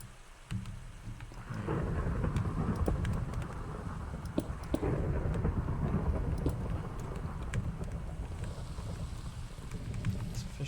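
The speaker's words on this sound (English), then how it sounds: "It's officially a thunderstorm." Minecraft thunderstorm: steady heavy rain hiss with low rolling thunder rumbles and scattered crackling strikes, continuous and fairly loud throughout with no talking.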